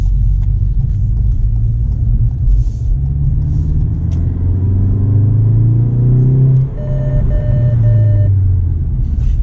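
Ford Focus ST MK4 pre-collision assist warning: a short series of evenly spaced electronic beeps near the end, sounding over a steady engine and road rumble from inside the moving car.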